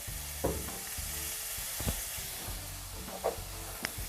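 Onions sautéing in a pan for Bajan saltfish gravy give a steady, moderate sizzle, broken by a few brief stirring scrapes and knocks, with no talk.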